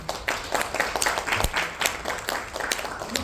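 Audience applause fills a conference hall at the 2025 Good Brain Conference as a speaker is welcomed to the stage, a dense, steady wash of clapping that stays fairly loud for its whole length.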